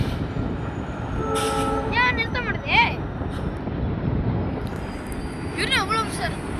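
A train rumbles steadily nearby approaching and crossing the Pamban bridge, with a continuous low roar, while short bursts of chirping or squealing cut through above it.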